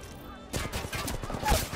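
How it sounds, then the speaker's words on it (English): Gunfire in a ranked online shooter match breaks out after a brief quiet moment, a dense, loud rattle of rapid shots that continues to the end. "Shooting at us."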